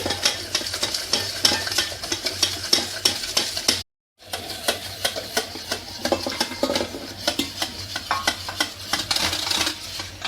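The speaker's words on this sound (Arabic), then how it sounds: "نبدا نضيف الحليب شويه بشويه بهاد السرعه باش ما يطيبش لينا البيض" Hot coffee-flavoured milk is gradually whisked into eggs for a coffee mousse, with fast rhythmic whisk strokes scraping against a bowl that stop for a brief moment and then resume.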